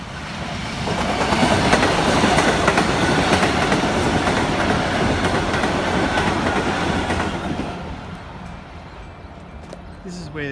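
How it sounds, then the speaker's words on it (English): A train rumbles and clatters past close by along the Kananook Creek walking trail, loud and sustained before fading away toward the end. "There's a train actually approaching around the corner,"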